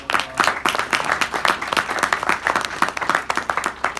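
An audience at a motivational talk breaks into applause, with individual claps clearly separable in a close, lively patter that rises and dips unevenly over a few seconds.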